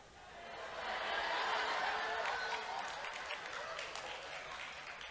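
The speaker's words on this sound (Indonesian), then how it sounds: "Ini tepuk tangan buat apa?" A church congregation applauds during a sermon, a soft, distant wash of clapping that swells and slowly fades, with faint chuckles mixed in.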